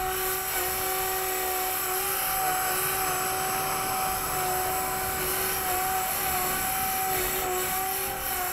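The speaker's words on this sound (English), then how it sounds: "You hear the increase of the power," The rotor of a Blade 180 CFX RC helicopter in stunt mode whines at high speed with a steady, loud, sustained tone, while faint tonal lines hold constant throughout.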